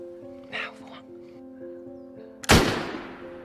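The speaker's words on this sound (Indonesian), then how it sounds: "Dengan aba-aba dari Markus, Pau pun melepaskan tembakannya." A single loud gunshot cracks out and decays over a sustained musical drone, after a brief voice-like sound earlier.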